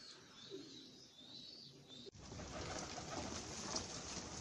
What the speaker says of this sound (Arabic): الحمام على الطبيعة اهوت وهو بياكل الخلطة الجبارة